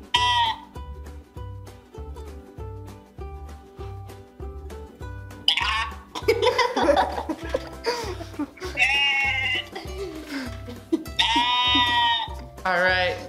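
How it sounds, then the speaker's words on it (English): Sheep bleat several times in quick bursts, loud and near, over a steady thumping music beat that runs throughout. "A sheep."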